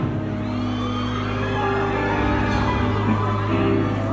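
A concert crowd at a celebrity charity show screams and cheers in a loud, dense, continuous roar that holds steady throughout.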